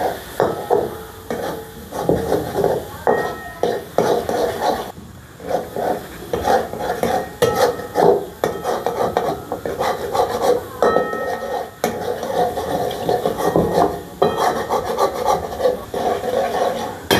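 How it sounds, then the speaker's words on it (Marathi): Spices and chilies being stirred in oil in a pan for a dry spicy chicken curry, with continuous scraping and rubbing strokes at close range and a steady rhythm. "चांगलं ते व्यवस्थित त्याला तेल सुटेपर्यंत हलवून घ्यायचं"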